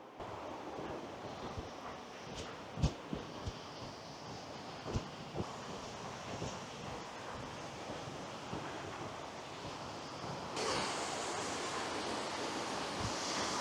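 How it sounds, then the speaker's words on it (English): Waterfall near Loch Ness, a steady broadband rush of falling water heard up close, with a few sharp knocks early on and the roar growing brighter and louder in the last few seconds. "This is only waterfall number 1."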